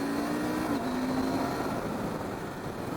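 KTM 890 Adventure R motorcycle engine on a demo ride, a steady drone that blips and shifts pitch briefly as the quickshifter downshift rev-matches, then settles back to a continuous hum with wind.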